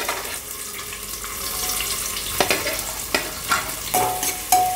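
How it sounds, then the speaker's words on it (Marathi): Onion sautés in ghee inside a pressure cooker for veg pulao, a soft sizzle that grows into several sharp spoon scrapes and stirs in the second half. "कांदा आपल्याला ब्राऊन होईपर्यंत परतून घ्यायचा आहे"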